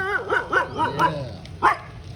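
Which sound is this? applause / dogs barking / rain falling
dogs barking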